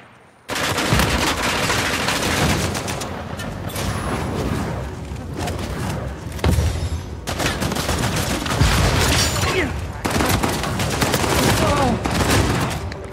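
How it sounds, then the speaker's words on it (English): Sustained suppressive gunfire in Uncharted 4 multiplayer: loud, dense bursts of automatic and single shots rattle almost continuously, with players' voices under the shooting. "Team is putting suppressive fire."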